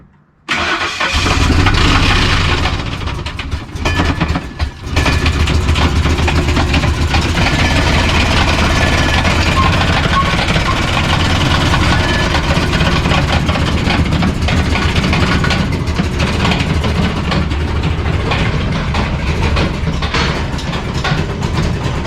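A damaged Ford Triton 5.4 V8 cranks and catches after a brief stumble, then settles into a loud, rough, steady idle close to the listener, with no talking.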